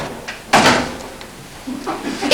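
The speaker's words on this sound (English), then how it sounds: "The knocker on the mighty front door slams 3 times." Heavy knocker on a large front door striking hard, a loud thump followed by further fainter knocks spread over a couple of seconds, close and reverberant.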